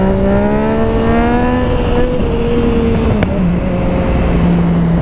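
A Yamaha FZ-09 motorcycle engine fitted with an Arrow exhaust runs steadily close by, its tone sliding slightly lower over a few seconds with a brief sharp click partway through.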